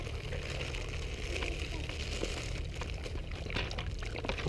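Water pours steadily into a container to give a dog a drink, a continuous splashing trickle under a low background rumble, with no talk.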